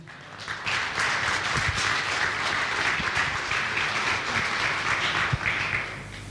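A church congregation gives a sustained round of applause. Dense, even clapping from many hands fills the room for several seconds and then tapers off at the end. No one speaks.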